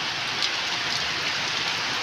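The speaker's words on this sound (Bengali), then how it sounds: "দেখেছো কত বৃষ্টি, জল জমে গেছে পুরো" Heavy rain pours at night, a dense and even roar of drops striking surfaces, steady throughout with no talking.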